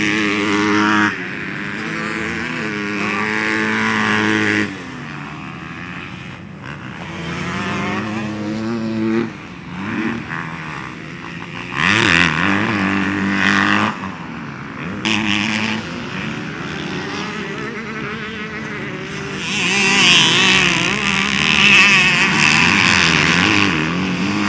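A Honda CRF250R motocross bike ridden hard, its single-cylinder engine revving up and down through the gears, loud and close, with sustained high-rpm stretches and brief drops between.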